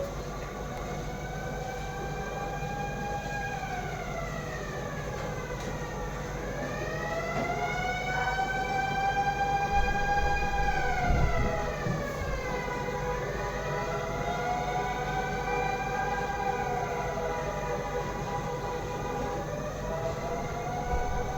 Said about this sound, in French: J'avais jamais entendu cette sirène de ma vie.